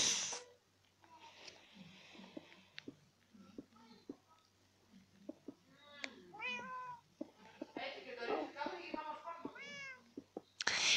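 Minecraft cats meow in several short, high calls spread through the stretch, with a dog nearby in the game, while a person talks quietly over the sounds.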